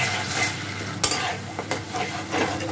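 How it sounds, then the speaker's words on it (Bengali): Spice masala with a little water and two split green chillies is stir-fried in a pan, giving a close, steady sizzle with repeated scraping stirs and one sharp clink of the utensil, with no voices. "জল দিয়ে এবার ভালো করে মশলাটাকে আমি"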